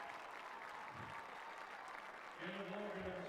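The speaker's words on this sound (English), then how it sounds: "gets a nice round of applause from the Husky faithful" Home fans at a Barnesville high school football state semifinal applaud from the far side of the field, a faint, distant wash of clapping that continues under an announcer's voice near the end.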